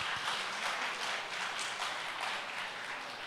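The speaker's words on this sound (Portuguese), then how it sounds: "Aplaude o Senhor por isso" Church congregation applauding, a steady wash of many hands clapping together, dense and even, heard at a moderate distance with no clear individual claps standing out.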